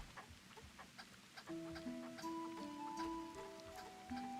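Chickens clucking in an indie MMO video game, with several short pitched clucks and calls starting partway through and overlapping, fairly close over a soft background patter.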